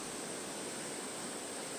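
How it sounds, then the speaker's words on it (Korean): A huge waterfall plunges into a clear pool, its steady broadband roar filling the air in an unbroken, even wash of rushing water. "아래로 떨어지는 시원한 물줄기는 거대한 폭포가 된다"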